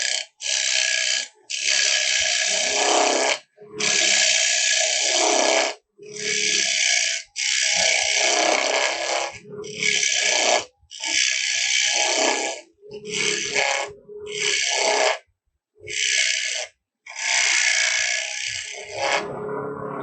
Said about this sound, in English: we're going to just take push cuts and level that off until it's flat with the bottom part of the tenon